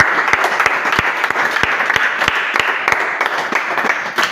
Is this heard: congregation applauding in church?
yes